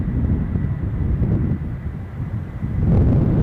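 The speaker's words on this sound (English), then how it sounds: "Just thought I heard the engine pick up there for this KLM A330" A KLM Airbus A330 jet engine spools up at Amsterdam Schiphol airport, a steady low roar with wind buffeting the microphone that swells louder toward the end.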